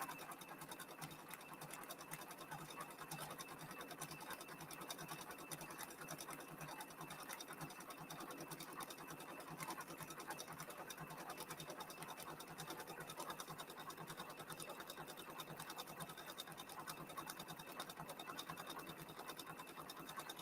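A Brother PRS 100 embroidery machine sews a satin stitch on an unconstructed hat, a steady fast mechanical whir and needle chatter running evenly for twenty seconds, soft but close, with no pauses.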